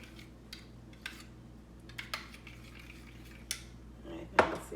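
Chickpea wrap filling stirred in a pan, a few scattered scrapes and taps of a utensil against metal, ending in a louder clatter, close up with a faint background hum.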